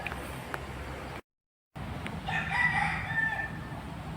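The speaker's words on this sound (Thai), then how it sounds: "ไก่เยอะเลยนะครับ" A rooster crows on temple grounds, a drawn-out call rising after a brief gap, moderately distant over a steady outdoor background.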